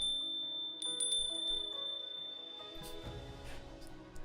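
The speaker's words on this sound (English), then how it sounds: "Especially the sound of the wind chimes would probably alert somebody" Wind chimes ringing inside a cozy bird-themed video game, scattered bright metallic strikes over a sustained tone and soft background music, fairly quiet and alone.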